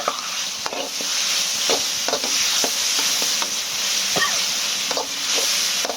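Chinese kale and chicken giblets stir-fry in a hot wok, a steady loud sizzle broken by repeated scraping clacks of the spatula tossing the food at an uneven rhythm.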